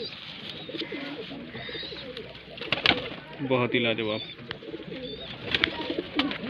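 Pigeons coo in soft, repeated rolling calls at a home loft in Bareilly, with someone talking over them in Hindi.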